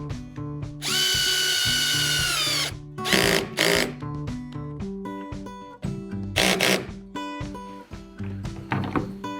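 Power drill driving a screw into a well nut in a Hobie Mirage Passport 12.0 kayak hull, with a loud sustained whir, then several short bursts of drilling separated by clicks and thunks.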